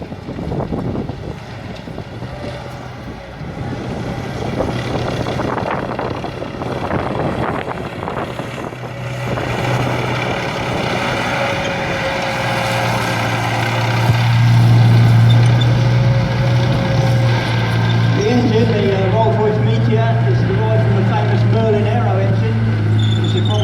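Centurion tank with a Rolls-Royce Meteor engine driving past at a tank museum demonstration, a loud, steady engine drone that swells in the middle of the run, with wind buffeting and people talking throughout.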